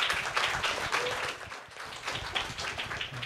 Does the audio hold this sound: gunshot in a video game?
no